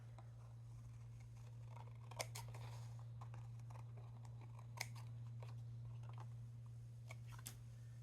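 Scissors trimming scrapbook paper during a craft project, a few sharp snips and crisp paper rustles over a steady low electrical hum, quiet and close, with no speech.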